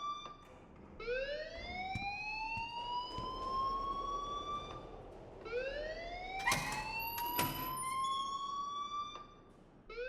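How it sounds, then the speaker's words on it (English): A rising and falling siren-like alarm wails at a school academy in the video game Life is Strange, two long sweeping cycles, loud and steady with some clatter. "please turn off that alarm since that's your job"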